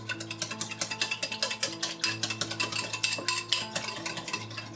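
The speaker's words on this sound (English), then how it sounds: "Whisk this up." A whisk beats lima bean juice in a bowl with quick, regular clinking strokes, close and fairly faint, over a steady background hum.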